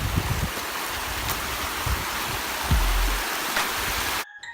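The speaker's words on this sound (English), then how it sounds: "So all this water is pretty much melting glacier." Glacier meltwater stream on a hiking path near Glacier Martial in Ushuaia, Argentina, a steady close rush of flowing water with brief knocks and bumps before it cuts off abruptly.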